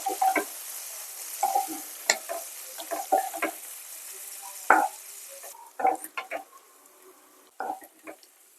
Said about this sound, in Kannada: ಇದಕ್ಕೆ ಸ್ವಲ್ಪ ಗೋಡಂಬಿ ಸೇರಿಸ್ಕೊತಾ ಇದ್ದೀನಿ. ಇದನ್ನು ಸೇರಿಸ್ಕೊಂಡು ಒಂದು 1 ನಿಮಿಷ ಚೆನ್ನಾಗಿ ಫ್ರೈ ಮಾಡ್ಕೊಳ್ಳಿ